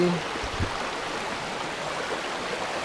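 A clean river flows over stones near Barangay Malibayo, Batangas City, making a steady, broad rushing wash throughout, with a brief low voice at the start.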